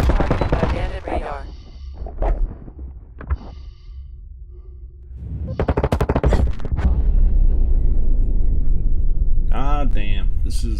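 Video game weapon fire in bursts: clusters of sharp shots near 1, 2–3.5 and 6 seconds, then a sustained loud stretch of gunfire and action noise to the end, with a player's sighs and voice mixed in.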